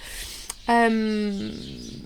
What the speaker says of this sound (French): Bataille d'oiseaux, vous les entendez?